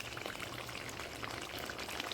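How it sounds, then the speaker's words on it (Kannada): Lemon juice poured into a pan of chicken wings masala, a faint, steady trickling splash with soft sizzling texture, close and without speech. "ಫಸ್ಟ್ ಲಿಂಬು ರಸ ಹಾಕಿ"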